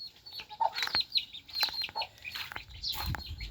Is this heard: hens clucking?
yes